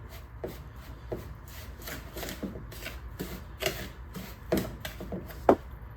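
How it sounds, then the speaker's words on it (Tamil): Flour, salt and baking soda are stirred together in a bowl for paniyaram batter: soft, irregular scraping and rubbing strokes, close and fairly quiet, with no talking. "இப்போ இது எல்லாத்தையும் சேர்த்து நல்லா மிக்ஸ் பண்ணிக்கலாம்."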